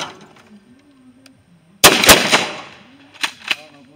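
Shotgun blasts fired at a thrown clay target while preparing for goose season, two loud close reports in quick succession followed by a couple of fainter shots and low voices talking.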